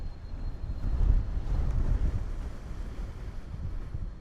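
Strong wind buffets the microphone at the Bottle Beach Viewpoint on Koh Phangan, Thailand, 200 to 300 metres above the sea: a steady, loud, low rumbling gust with no voices.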